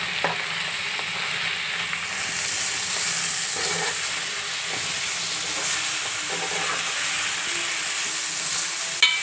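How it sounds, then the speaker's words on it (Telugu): Jackfruit peel curry with cashews and ginger being stirred in a frying pan, a steady broadband sizzle running throughout with soft scraping strokes, close and fairly loud, no voices. "ఇలా వేసుకొని బాగా కలిపి వేసుకోవాలి"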